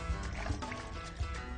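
Water poured into a blender with ice, evaporated milk and milk for a drink, a short liquid splash and gurgle up close.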